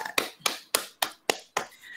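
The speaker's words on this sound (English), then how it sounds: "applause for Jawad" Six sharp, evenly spaced claps ring out alone, close and crisp, as applause for a student in an English speaking practical test.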